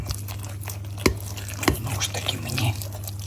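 Minced meat filling is mixed into dough in a bowl, producing wet squelching and sticky slaps with a couple of sharper knocks against a low steady hum.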